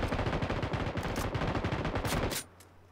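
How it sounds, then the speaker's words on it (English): Rapid automatic gunfire from an M249 machine gun in a shooter video game rattles out as a dense, steady stream of close loud shots, with a few heavier single cracks from an MK14 rifle, then stops abruptly. "I'm shooting at him, bro."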